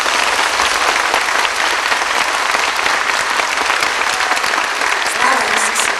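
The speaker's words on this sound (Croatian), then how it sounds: "još jednom, još jače zaplješćimo Isusu" A church congregation at a Catholic healing prayer gathering breaks into loud, sustained applause: many hands clapping steadily and close for several seconds, with a faint murmur of voices underneath.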